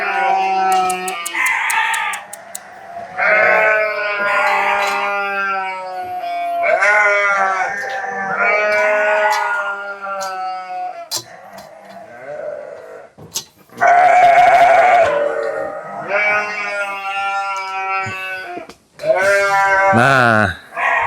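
Sheep waiting to be sheared on a farm bleat loudly and repeatedly up close, a string of wavering calls with short gaps, with a person talking at times in between.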